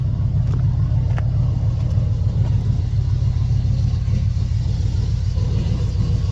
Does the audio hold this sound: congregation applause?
no